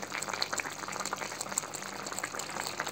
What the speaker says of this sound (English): As you can see, it's starting to bubble nice and thick.